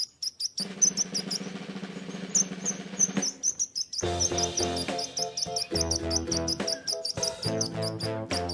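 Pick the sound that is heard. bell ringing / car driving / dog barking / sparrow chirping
sparrow chirping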